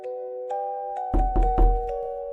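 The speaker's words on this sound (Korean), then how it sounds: "이렇게 3번씩 치는 노크 소리가 3번, 4번, 5번, 6번 들리는 거야." Three quick knocks land on a door, firm and close, over soft sustained musical tones.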